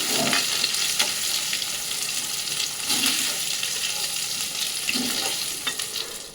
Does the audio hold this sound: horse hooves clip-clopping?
no